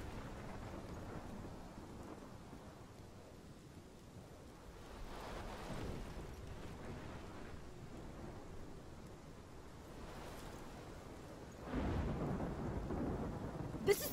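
A thunderstorm in the Life is Strange video game: low rumbling thunder and steady rain, with rolls building around the middle and a louder surge near the end, all without voices.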